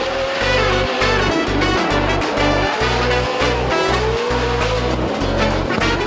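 A drift car at a Formula Drift event in Seattle roars through a corner, with a loud engine note that climbs and drops in pulses as the driver works the throttle. Tire squeal and crowd-level race ambience run underneath throughout.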